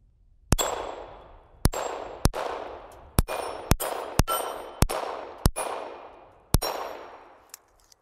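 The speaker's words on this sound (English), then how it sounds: "Let me shoot it a few more rounds and I'll tell you what I mean by that." A Smith & Wesson Victory pistol fires about ten sharp, loud shots at an uneven pace outdoors, each crack ringing out with a long fading echo before the next.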